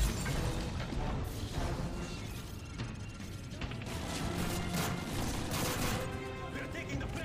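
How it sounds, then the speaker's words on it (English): Gunfire in the video game Call of Duty Modern Warfare 3, a dense, continuous barrage of shots and crashes filling the whole stretch, with shouting voices mixed into the din. "Gunfire!"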